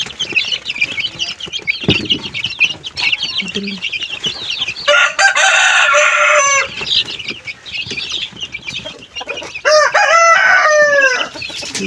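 Backyard pet chickens, young birds grown from chicks, cluck close by with a rooster crowing and a burst of wing flapping, the calls rising and falling irregularly with no one speaking.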